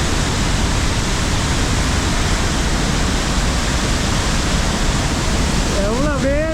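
Hogenakkal waterfall, with water pouring down from above and throwing up mist: a loud, continuous broadband roar that fills the whole clip at close range, with a voice briefly starting over it at the end.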